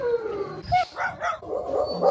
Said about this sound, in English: okay, a pack of dogs.